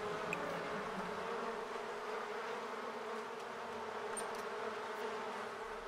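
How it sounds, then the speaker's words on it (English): Continuous buzzing of bees in The Sims 4 hums steadily throughout, fairly close, with no speech. "Stop enraging the bees, damn it."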